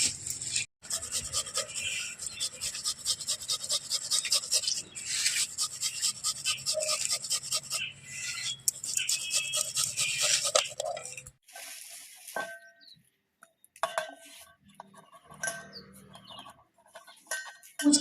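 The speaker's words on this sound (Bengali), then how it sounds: "এই ছিলায় এটাকে ছোট ছোট করে ছিলব" Watermelon flesh rasped against a hand grater for a watermelon lassi, a steady wet scraping that runs close and continuous for about ten seconds, then thins into sparse scrapes and light clinks with quiet gaps.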